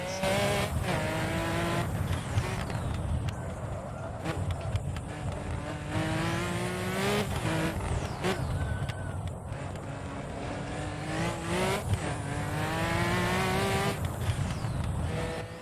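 A race car on the Goodwood hillclimb accelerates hard and continuously, its loud, close engine note climbing through repeated gear changes, with tire noise mixed in.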